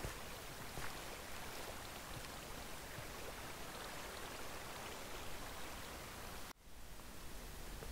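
Water flowing down through a wheat farm in Minecraft, a faint continuous rushing hiss that dips abruptly near the end.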